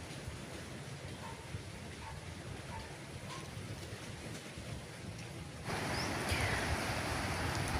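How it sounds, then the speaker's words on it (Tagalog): Heavy monsoon rain during the southwest monsoon pours down as a steady, dense hiss at moderate distance, growing noticeably louder partway through, with no voices. "So madugay guys ni bundak na jud ang kusog nga ulan guys."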